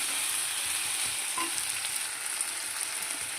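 Wild gourd (athalakkai) spread out in hot oil sizzles steadily with curry leaves, a continuous close frying hiss throughout with a faint clink from stirring, no voices.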